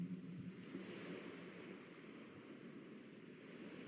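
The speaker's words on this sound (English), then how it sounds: "I put some ocean sounds." A played recording of ocean waves gives a soft, continuous wash of surf with low rumble, faint and steady throughout and with no voices.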